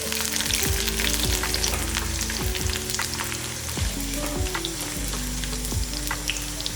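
Dried red chilies and curry leaves frying in hot oil with a dense, loud crackling sizzle and occasional utensil taps, close up, over a low steady hum and no talk.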